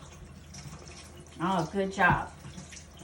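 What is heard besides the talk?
water running from faucet while rinsing hands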